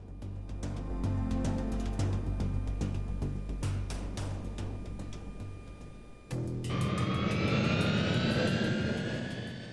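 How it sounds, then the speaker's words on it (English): The three Soloviev jet engines of a Tupolev Tu-154M airliner roar steadily on a runway, then a sharp rising whine joins the loud, continuous thrust as power increases. "the Tu-154M's 3 engines roar to life, shaking runway 33"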